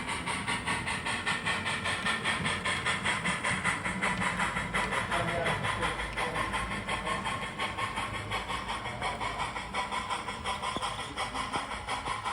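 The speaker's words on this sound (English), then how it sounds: "The piggyback train is now returning west from Kingston." A piggyback TOFC freight train on the Southern Central line rolls steadily past heading west, with a continuous loud rumble, hiss and rhythmic wheel clatter that stays constant throughout.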